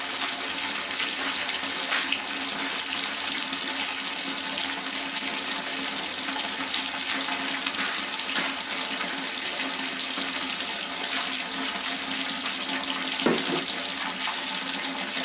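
Liquid pours steadily out of a tilted container while making alcohol with a T500 still, a continuous gushing, splashing stream like a running tap that holds at an even level throughout.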